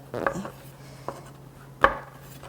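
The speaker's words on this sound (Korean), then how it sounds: "이렇게 한 한 입 크기로 4등분 이렇게 준비하시면 됩니다." A knife cuts fresh shiitake mushrooms into bite-size quarters on a cutting board, making three separate soft thuds against a low steady hum. The first and last chops are the loudest.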